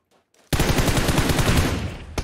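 Sustained automatic gunfire in the video game PUBG on the Miramar map, a loud rapid burst of shots that starts abruptly after a short faint lead-in and keeps going to the end.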